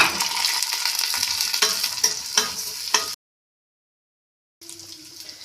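Vermicelli noodles sizzle and crackle as they fry and get stirred in a pot on a gas stove for Egyptian koshari, a dense close hiss with stirring scrapes, broken by a brief gap before frying resumes.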